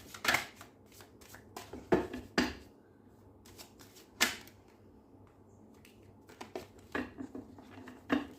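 A deck of cards being shuffled by hand in quiet, close bursts of crisp riffling and slapping, separated by short pauses, with no talking.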